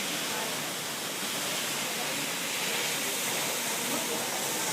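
Bongolanon Falls roars nearby, a dense, steady broadband rush of falling water that fills the short clip evenly without pause.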